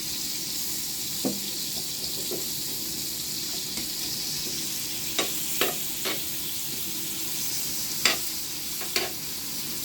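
Onions and chili stir-frying for sizzling squid, a steady bright sizzle running throughout with several sharp scraping clicks of a spatula against the pan, close and fairly loud, no voices.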